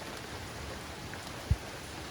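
Steady rain falls in winter in Southern California, a soft even hiss of drops with one brief low thump partway through, no voices.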